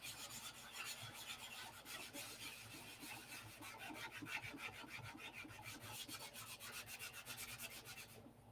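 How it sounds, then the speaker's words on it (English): Wood is sanded by hand with quick, rhythmic back-and-forth rasping strokes. The sound is close and steady, with no talking. "The most crucial sanding is the top coat sanding."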